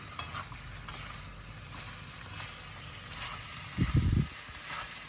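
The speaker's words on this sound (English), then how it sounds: "that's just added to the salmon and the mushrooms and shallots and peas, and mixed through" Drained pasta being stirred together with salmon, mushrooms, shallots and peas in a pan, a soft continuous sizzle and stirring with a brief louder scrape of the utensil near the end.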